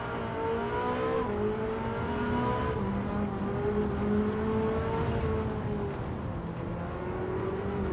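Ferrari F8 Tributo V8 in a racing video game, a sustained high engine drone with rising and falling revs through gear changes, steady and fairly loud throughout with no talk.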